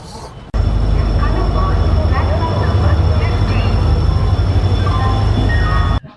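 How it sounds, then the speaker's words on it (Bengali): Howrah–Purulia Express passenger train leaving Howrah station, a loud, steady rumble and rattle of carriages rolling close by, starting abruptly and holding nearly throughout, with a voice talking over it. "হাওড়া পুরুলিয়া এক্সপ্রেস এই মিনিট 15 দেরি করে হাওড়া স্টেশন ছাড়লো"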